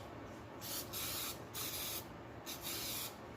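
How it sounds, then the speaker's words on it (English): Brake cleaner sprays onto the small idler and belt hardware of a 1998 JDM Subaru Legacy 2.0L wagon in several short hissing bursts, close and loud, with brief pauses between them. "Brake cleans."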